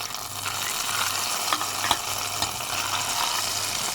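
Three dry red chillies sizzle in hot oil for a chutney tempering, a steady crackling fry with a few sharp pops and a low background hum, no voices.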